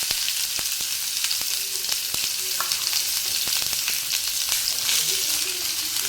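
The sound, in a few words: chopped onion frying in oil with mustard seeds and cumin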